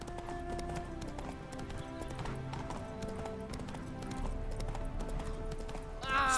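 Roach, a horse in The Witcher 3: Wild Hunt, trots with a steady, close clip-clop of hooves running through the whole stretch over a bed of game music.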